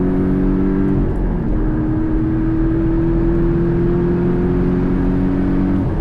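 Deep, steady bass drone of a 2018 Porsche 718 Cayman GTS engine heard from inside the cabin, loud and continuous with sustained low tones that shift slightly in pitch, no talking over it.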